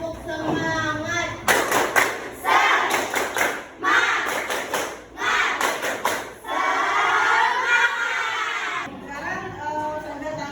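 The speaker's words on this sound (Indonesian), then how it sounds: "Tepuk semangat." A classroom of students performs a spirit clap chant, with bursts of rhythmic group clapping alternating with voices chanting together. It is loud and close, and ends in a longer shouted cheer.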